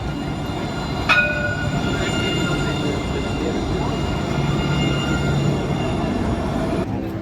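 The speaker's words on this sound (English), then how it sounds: "There is a tram passing us right now on our right." A tram rolls past on a Montpellier street, a loud continuous rumble of wheels on rails with a sharp metallic squeal and faint tonal whine above, steady and close before easing off at the end.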